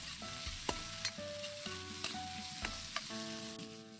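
Garlic, ginger, onion and tomato sautéing in a pan for mussel sinigang: a steady close sizzle broken by several sharp scrapes and knocks of a utensil stirring against the pan, with no talking.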